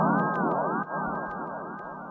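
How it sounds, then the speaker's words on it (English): Synth oscillator with heavy LFO pitch modulation, its tone sweeping up and down in repeated swooping arcs about every half second, sustained and moderately loud. "If I would crank the amount of the LFO up, it would sound like this."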